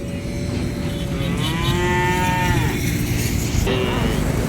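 Cattle and calves low and moo at the Vaniyambadi cattle market, a drawn-out bellow rising and sliding over a constant crowd murmur, with a second shorter call near the end.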